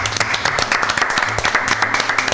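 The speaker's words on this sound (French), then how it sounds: "On t'applaudit encore une fois." A studio audience at a French general-knowledge quiz show claps loudly and continuously, a dense, close wash of many hands with a faint low hum underneath and no talk.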